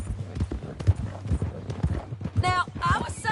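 Horse hooves clip-clopping in Red Dead Redemption 2, with soft, regular thuds of a walking horse running beneath a voice talking throughout, plus brief higher vocal tones near the end.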